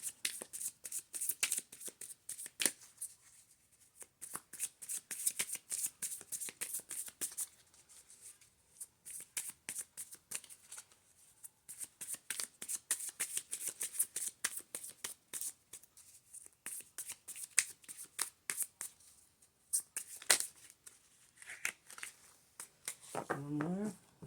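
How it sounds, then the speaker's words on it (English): Slick tarot cards being shuffled in repeated rapid riffling bursts, close and fairly quiet, with soft pauses between runs and a brief voice near the end. "They're very slick, so they're hard to shuffle right now"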